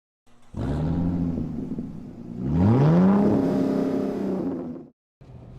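A car's engine hums and rises in a steady revving surge as it drives, rumbling close and loud, then cuts off briefly before resuming.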